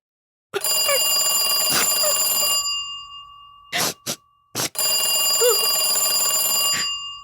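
A telephone bell rings loudly in long bursts, stopping and starting with brief gaps between rings, in a radio drama.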